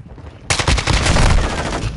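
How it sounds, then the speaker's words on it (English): Sustained automatic gunfire in Call of Duty erupts suddenly after a brief quiet and rattles on loud and close as a rapid continuous burst. "Come on, I get shot from behind."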